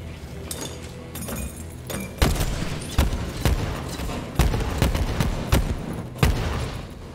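Contact grenades in Borderlands 3 explode on impact in a rapid series of sharp, punchy blasts, about eight bursts spread over several seconds with brief crackling debris between, loud and close with no talk.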